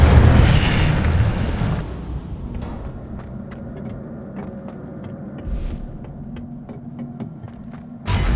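Incendio, a fire spell in the video game Hogwarts Legacy, bursts with a loud roaring whoosh that fades into a low rumbling hum scattered with faint crackles, and a fresh burst hits at the end.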